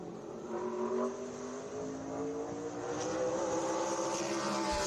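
A race car running a qualifying lap at Five Flags Speedway in Pensacola, its engine holding a steady, strong drone with rising pitch as it builds speed, heard continuously at moderate distance.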